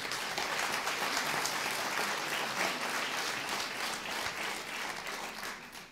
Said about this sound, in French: Les applaudissements sont plus nourris